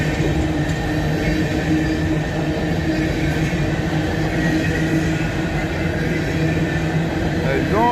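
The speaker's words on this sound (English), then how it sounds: "Off the northbound train." A northbound freight train rolls past at about 35 miles an hour through Abbeville, a steady close rumble of wheels and wagons filling the whole stretch, with a voice talking faintly underneath.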